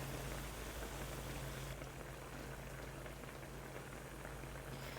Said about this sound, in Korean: 자작자작해지면 남아있는 양념장을 한 번 더 넣어서 졸이도록 하겠습니다